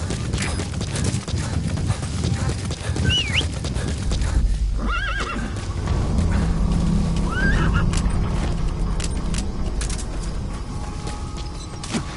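A horse whinnies twice over steady hoofbeats and a continuous game-like ambient bed, loud and close throughout.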